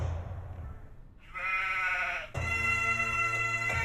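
Sheep bleat in an open countryside setting, two long wavering calls heard close and fairly loud, the second starting right as the first ends, over a quiet background with no talking.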